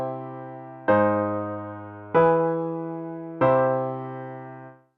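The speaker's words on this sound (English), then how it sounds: "Here is a typical progression that uses a combination of mediant chords." Four sustained piano-like chords, a chromatic mediant progression in C, played one after another, each struck and left to ring and fade, forming a slow progression with no voices.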